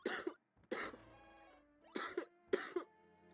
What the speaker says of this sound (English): Damn, I hate this cough.